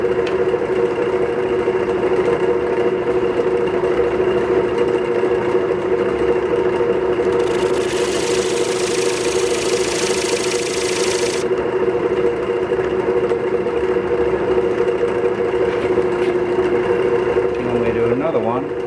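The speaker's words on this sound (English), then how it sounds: "I think I'm going to do a score mark right here. Just going to use the tip of my square carbide." The tip of a square carbide tool scores a 13-inch walnut platter spinning on a wood lathe. A steady motor hum runs throughout, with a hissing cut lasting about four seconds in the middle.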